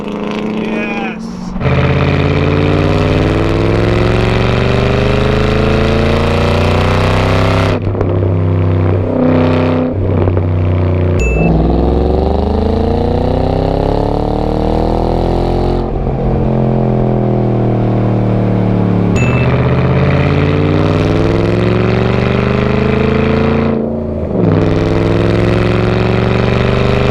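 A Shelby GT500 fitted with a new exhaust revs repeatedly, each loud, rising-and-falling sweep separated by short dips back toward idle, with voices now and then over the engine.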